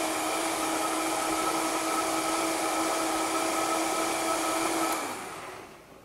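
A countertop blender whirs steadily at high speed, blending crepe batter with fresh parsley. The loud, even motor drone holds for about five seconds, then winds down and fades.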